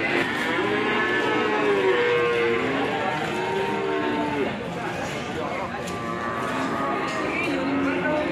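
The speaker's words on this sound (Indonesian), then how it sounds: "ada sapi super ini berjeniskan Simental Carolis" Simmental cattle bellow in long, overlapping moos close at hand, several animals calling in turn at steady volume while a person talks nearby.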